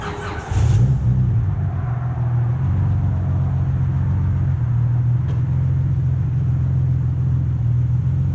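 A J32A3-swapped Honda Civic hatchback drives down the road, its engine humming in a low, steady drone from inside the car after a brief louder start, with no talking.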